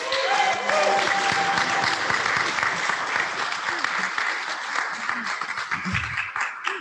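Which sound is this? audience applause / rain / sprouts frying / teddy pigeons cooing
audience applause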